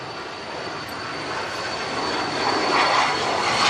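A departing airliner climbs out from Manchester Airport on a windy day, its broad engine roar steady and gradually swelling louder toward the end, heard alone without voices.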